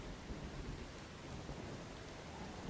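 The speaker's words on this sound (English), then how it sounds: "It's raining all over the world tonight." Steady heavy rain pours continuously with low rumbling thunder underneath in the video game Once Human, a dense, constant storm wash with no voices.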